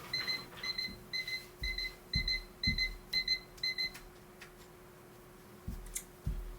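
An alarm clock rings in quick repeated bursts of high electronic beeps, fairly faint in a room, with soft thumps underneath; the beeping stops partway through, leaving a low hum and a few knocks.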